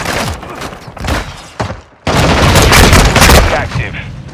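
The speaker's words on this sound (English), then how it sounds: "Throwing grenade!" A grenade bursts in a first-person shooter game, a loud broadband blast that swells after a brief lull and rumbles on for a couple of seconds amid other gunfire and combat noise.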